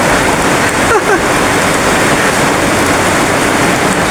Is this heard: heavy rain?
yes